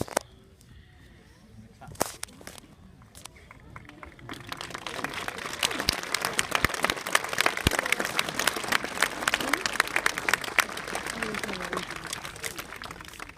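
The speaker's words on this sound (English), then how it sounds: "We're going to need a really encouraging round of applause." Enthusiastic applause from a crowd, starting sparse with a few claps then swelling into steady, loud clapping that continues to the end.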